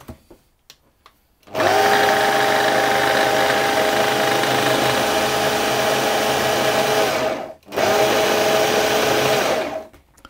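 A food processor blending egg yolk into a tart filling for an iced Bakewell tart, a loud steady motor whir that starts abruptly, runs for several seconds, stops briefly, then resumes.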